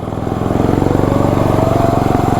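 A lawnmower fitted with a snowblower engine and driven in first gear gives a loud, steady, rapid engine chatter with a fast, even firing pulse throughout, close to the listener.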